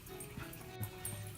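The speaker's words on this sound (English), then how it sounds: "And that's my dog wanting attention." A pet dog whines and yips for attention indoors, short soft whimpers rising over a low steady room hum, close by and faint.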